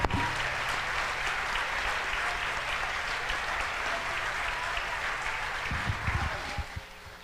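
A church congregation at a nighttime prophetic conference claps in sustained, even applause, with a few low thumps near the end as it dies down.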